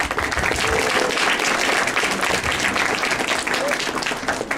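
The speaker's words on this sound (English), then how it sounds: "So give her a warm round of applause." A room of students gives a warm round of applause for a guest speaker at a Texas A&M meeting, steady loud clapping throughout with some crowd noise mixed in.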